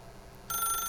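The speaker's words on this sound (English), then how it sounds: "Then pick up the phone." A phone ringing in the video game The Stanley Parable: a bright, steady electronic ring starts abruptly halfway through and carries on loudly after a quiet stretch of background hum.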